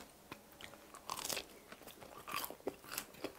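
Crunchy Pizza Hut beef pizza crust with sweet potato mousse and cheese is bitten and chewed, with sharp close crunches in uneven bursts over several seconds and no speech.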